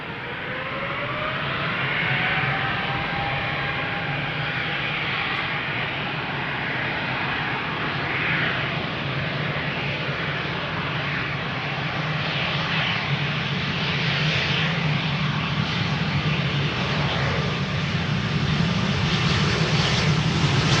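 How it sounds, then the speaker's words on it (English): Jet airliner engines spool up at Amsterdam Schiphol airport, a steady loud roar with whining, whale-like tonal sweeps rising over about twenty seconds, heard from a distance without talk. "I'm hearing whale sounds, so the engines are spooling up"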